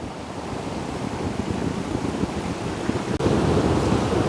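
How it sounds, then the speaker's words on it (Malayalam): Ocean surf rolls onto Munambam beach in a steady, broad wash that rises a little near the end, with no voices heard. "തിരമാല അടിച്ച് മുകളിലേക്ക് വരുന്നതിന്റെ ആ ഒരു സെറ്റപ്പ് നോക്കി."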